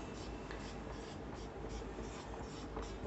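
Pen writing on paper while a number is written out during a lesson: soft, continuous scratchy strokes at low level, close and quiet, without any talk in the clip.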